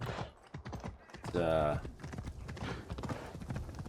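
Rapid hoofbeats of a galloping horse in Assassin's Creed Shadows clop steadily under someone talking, with a short neigh-like tonal sound midway.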